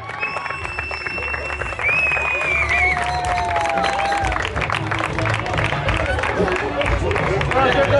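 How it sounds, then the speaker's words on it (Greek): A crowd applauds at a beach volleyball tournament awards ceremony in Vari, with sustained clapping, some cheering and chatter, growing slightly louder partway through. "χειροκροτήστε"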